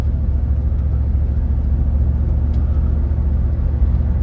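Cadillac Escalade after a 2WD conversion driving with its automatic transmission shifting gears, a steady loud low engine and road rumble heard from inside the cabin with no talking.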